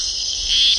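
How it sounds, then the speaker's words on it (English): Frogs calling at night in Animal Jam, a dense high-pitched trilling chorus, steady and loud over the short span with a slight swell toward the end. "The frogs are calling to each other to find mates"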